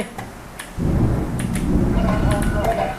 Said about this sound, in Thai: ฝนแรงแล้วทุกคน